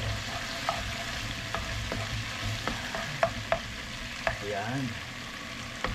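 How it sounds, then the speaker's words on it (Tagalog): Garlic sautéing in oil left over from frying, a steady close sizzle broken by scattered sharp clicks of a spatula stirring against the pan, with no talking. "Gisa tayo ng bawang."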